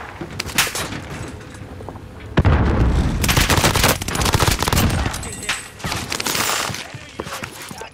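Loud rapid bursts of automatic gunfire with scattered single shots and booming impacts in a video game, close and intense, coming in waves over several seconds.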